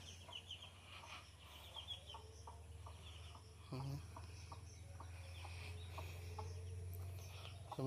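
A hen with three chicks gives soft, repeated clucks and short calls at moderate distance, over a steady low hum and light background noise.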